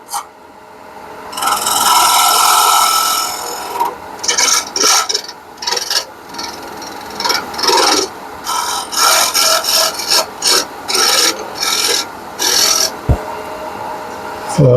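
Bowl gouge cutting a turning piece of wood on a lathe, a loud, continuous rasping scrape that breaks into repeated short cutting bursts, no talking.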